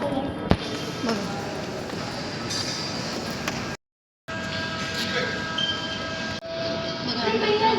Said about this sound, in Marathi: आपण कुठं आलो? Underground train.